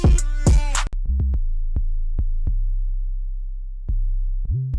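Deep, smooth electronic 808 bass notes, low-pass filtered, boom and sustain, with sharp clicky percussion hits scattered between them; a short chord burst opens the clip.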